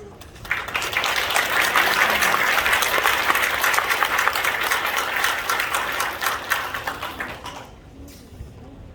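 A church congregation applauds loudly to welcome a pastor at a 45th anniversary ordination thanksgiving service, steady dense clapping that swells quickly and carries on for several seconds before tapering off near the end.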